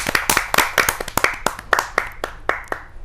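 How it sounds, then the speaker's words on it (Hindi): An audience at a Hindi kavi sammelan poetry gathering claps to welcome a poet, with individual claps sharp and distinct in an uneven rhythm rather than a dense roar, close and fairly loud. "आइए जोरदार तालियों से स्वागत करते हैं कविता कुसुमाकर जी का"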